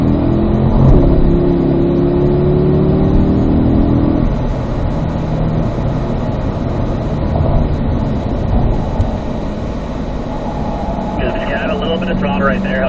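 Race car engine on a road course, loud and continuous, revving and rising as it accelerates out of a corner apex, with a driver talking over the engine noise throughout.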